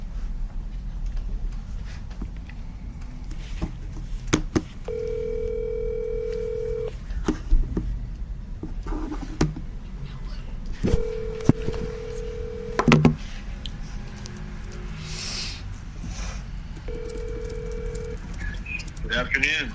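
A telephone line gives steady dial tones and dialing tones before a phone call, each tone lasting a couple of seconds, over a constant background hiss with scattered clicks.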